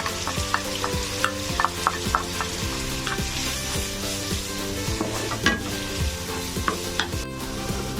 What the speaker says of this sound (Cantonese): 然之後倒落個蒜味一齊爆香佢。